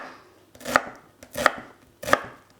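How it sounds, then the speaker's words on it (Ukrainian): A knife chops onion into small cubes on a board, three separate, close, crisp cuts at a steady interval, each with a short crunch before the thud. "Цибулька дрібним кубіком. Так. Нарізаємо."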